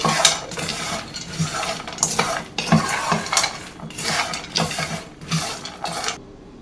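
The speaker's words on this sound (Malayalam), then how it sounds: "അപ്പോൾ ഇതെല്ലാം കൂടെ നമുക്ക് ഇളക്കി മിക്സ് ചെയ്തെടുക്കാം." A spoon scrapes and clatters against a bowl or pan in rhythmic strokes as roasted white sesame is stirred into a healthy protein-packed snack mixture, close and fairly loud with no talking.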